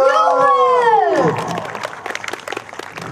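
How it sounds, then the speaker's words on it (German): Crowd at the Neuwied Castle 350th anniversary celebration: one loud, drawn-out cheering shout that falls in pitch, followed by scattered, fading clapping and murmurs close by. "Jubel!"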